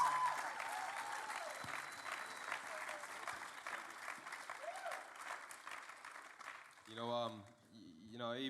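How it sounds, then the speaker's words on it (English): Church congregation giving a round of applause, sustained loud clapping from a crowd filling the room, then tapering off as a voice begins speaking at the end. "come on, let's give them a round of applause."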